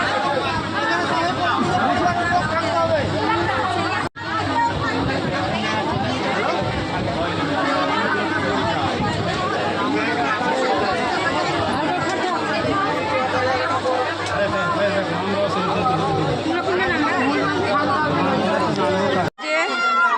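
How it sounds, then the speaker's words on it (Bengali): Dense passenger chatter fills a packed Bengali local train, a steady babble of many overlapping voices close around, with a constant low rumble beneath and two brief dropouts. "দেখো কত ভিড় ট্রেনের মধ্যে, সেই চাপাচাপিতে যাচ্ছি"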